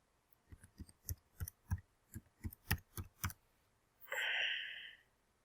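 Fingers typing a password on a computer keyboard, about a dozen quiet, evenly spaced key clicks followed by a short soft hiss.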